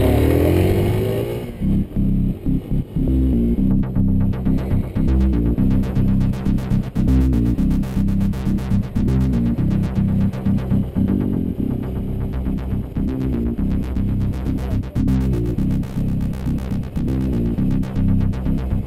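A small Suzuki TU250X single-cylinder motorcycle engine revs hard and steadily, its throbbing exhaust pulsing loud and close without pause, with throttle blips rising and falling throughout and no talking.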